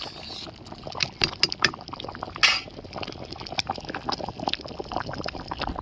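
Bitter moong dal with bottle gourd, bitter gourd and drumsticks being poured into a pot, a run of liquid splashes and glugs with clinks of the vessel, then quieter bubbling.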